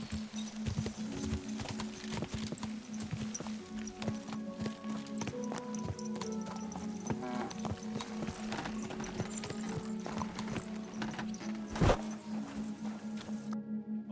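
Horse hooves clip-clop in a steady walking rhythm over a constant low hum in the video game Kingdom Come: Deliverance II, with a sharp louder knock partway through.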